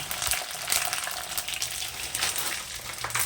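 Water poured into a pan of boiled biuli dal sets off a steady, close sizzling hiss with a faint gurgle underneath, running without a break and no voices.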